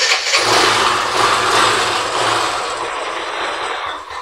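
A Bajaj Boxer 150 motorcycle engine starts and settles into a loud, rough, close-up running sound that keeps going throughout.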